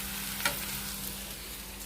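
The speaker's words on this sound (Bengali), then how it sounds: "এই দেখো আলু ভাজা করে নিচ্ছি" Potatoes frying in a pan with a steady, even sizzle and one brief clink of a utensil near the start, alone without talk.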